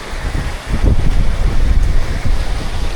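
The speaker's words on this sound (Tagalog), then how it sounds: "Sarap ng hangin." Wind gusting outdoors near a waterfall, a steady low roar with buffeting rumble across the microphone, continuous and fairly loud with no voices.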